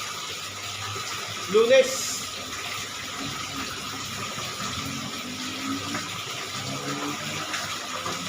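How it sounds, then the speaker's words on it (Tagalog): Water drains out of a home aquarium during cleaning as a steady running, gurgling wash, with a person speaking over it. "Tatanggalin ko lang yung tubig"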